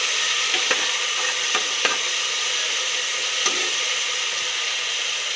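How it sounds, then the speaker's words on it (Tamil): Tomatoes sizzle and fry in a pan while being stirred for a Tamil-style chicken curry, a constant close hiss over low flame with a few soft scraping taps from the spoon. "இப்போ தக்காளி ஆட் பண்ணிக்கலாம் இப்போ இதுவும் நல்லா வதங்கணும் நல்லா மிக்ஸ் பண்ணிக்கலாம்"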